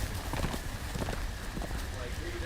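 Horse hooves clip-clop in a steady rhythm in the Game of Thrones Telltale video game, sitting under game music and speech at moderate loudness.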